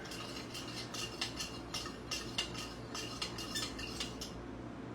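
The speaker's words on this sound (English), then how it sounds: "Gonna give it a good stir." A spoon stirs vermicelli kheer in a bowl, giving a run of quick, close clinks and scrapes against the sides, fairly faint and with no talking.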